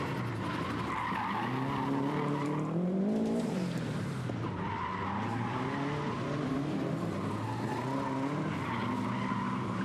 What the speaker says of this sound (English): Love the sound of those flat 4 engines. Absolutely growling those things at every opportunity.